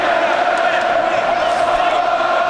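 Boxing arena crowd at the Ricky Hatton vs. Juan Lazcano fight roaring continuously, a loud, dense wall of chanting and cheering from thousands of fans that fills the space without letup, steady in level from start to finish.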